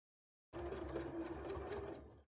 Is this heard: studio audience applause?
no